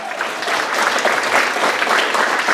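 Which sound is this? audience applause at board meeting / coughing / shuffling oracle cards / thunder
audience applause at board meeting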